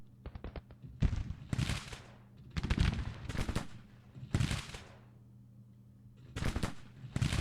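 Volleys of musket and cannon fire crackle in bursts from an American Civil War strategy game, distant-sounding salvos repeating every second or so with brief gaps between.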